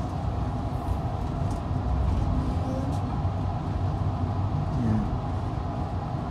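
Amtrak San Joaquin train pulling out of Bakersfield station, heard from inside the car as a steady low rumble with rail noise and faint squeals, loud and continuous.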